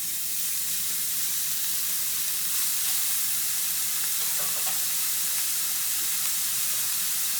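A beef mixture sizzles and fries in hot oil in a pan over medium-high heat, giving a steady, loud, close hiss that stays even throughout.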